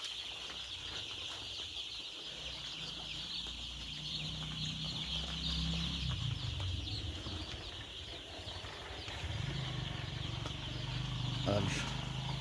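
Broiler and coloured chicks crowd a heated winter brooder, keeping up a constant high chorus of cheeping with some wing flutter, while someone talks over them.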